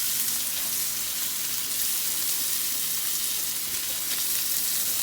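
Ground beef and Italian sausage fry in a pan with a steady, dense sizzle that crackles throughout, close and even, with no one talking.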